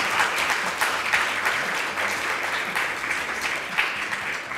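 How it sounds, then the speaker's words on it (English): An audience gives warm applause after a medical presentation on aesthetic surgery, a steady, even wash of many hands clapping that holds at full level throughout, with no voices over it. "I'd like for you all to give a big warm applause to our three"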